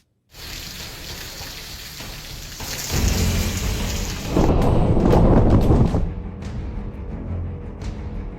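Heavy torrential rain in Chhatarpur district, Madhya Pradesh, pours as a dense, loud, continuous hiss that swells into a heavier downpour midway with low rumbling, then eases slightly, with no talk.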